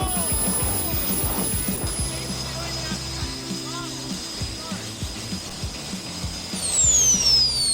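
A homemade jet engine mounted on a longboard roars steadily with a high whine and broadband rush, swelling louder near the end as voices talk over it.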